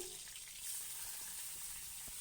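Bay leaf, whole dried chillies, cumin, tomato, peas and coriander leaves hit hot oil in a wok. A faint, steady hiss of frying runs through the whole stretch, with a few soft knocks.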